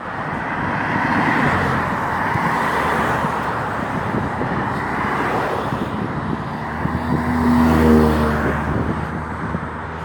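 Cars and trucks pass on a road at night as a continuous rumbling roar that swells near the end as a heavier vehicle goes by.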